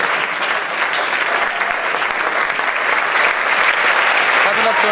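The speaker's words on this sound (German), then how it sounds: "Ein Applaus, lasst uns feiern." Sustained applause from an audience at a sports awards gala, a steady dense clapping that stays loud and even throughout without pause.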